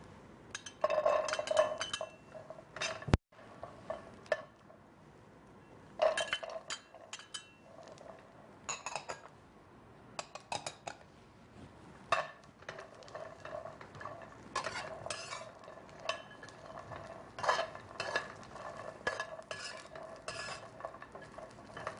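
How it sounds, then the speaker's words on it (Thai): Garlic being roasted in a pan, with a spoon stirring and scraping against the metal in irregular bursts over a faint sizzle, close and fairly quiet. "หลังจากนั้นเราก็คั่วกระเทียมนะคะ"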